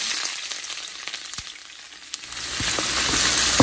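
Onions sizzling in hot oil with bay leaves and a cinnamon stick, a steady close frying hiss with a few soft stirring knocks, growing a little louder toward the end.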